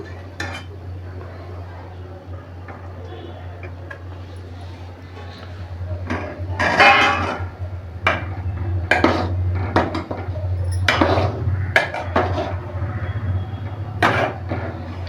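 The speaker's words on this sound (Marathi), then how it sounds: "ही जी कडी टाकायची मच्छी होती आपली हे आता मी टाकून घेते" Fish pieces of boi fish dropped into a pot of Maharashtrian fish curry, soft clinks of metal vessels and spoon scrapes with faint splashes, someone talking quietly over a steady low stove hum.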